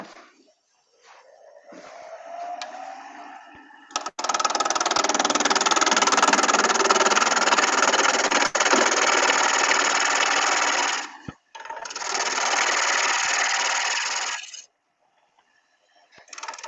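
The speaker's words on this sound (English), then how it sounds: "Now I'll tighten this corner up a little bit with a gouge." A wood lathe spins a cabriole club-foot leg while a gouge cuts into it, giving a steady broadband whirring hiss that runs loud for several seconds, stops briefly, then resumes for a few more seconds before falling quiet.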